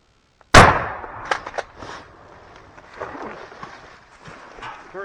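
A single sharp, loud shotgun blast cracks out early during a wild turkey hunt in the mountains and decays quickly. Rustling, scattered thumps and faint outdoor movement follow.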